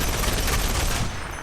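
Rampart's minigun Sheila firing in Apex Legends, a dense, continuous roar of rapid automatic fire for over a second before trailing off, loud and close with no voices.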